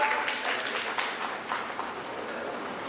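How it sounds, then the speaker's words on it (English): Audience applause welcoming a guest speaker at a principals' conclave, a fairly quiet, steady wash of many hands clapping that holds evenly for a few seconds. "Let's welcome him with a huge round of applause."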